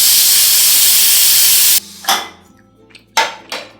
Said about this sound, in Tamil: ப்ரெஷர் எல்லாத்தையும் ரிலீஸ் பண்ணி விட்டுக்கோங்க.